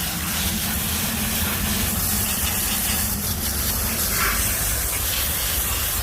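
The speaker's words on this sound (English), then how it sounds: "just get your hose and spray it down" Steady hiss of a garden hose spraying water down a motorcycle chain, continuous and close, with a constant rushing texture and no voices.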